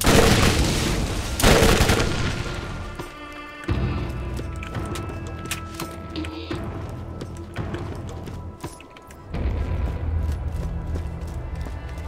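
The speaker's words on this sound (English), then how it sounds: "Poorly parted Dahl machine gun compared to the other one." Gunfire from a poorly rated Dahl machine gun in the video game Borderlands, rapid bursts of shots in several loud clusters with brief pauses between them, and no voices.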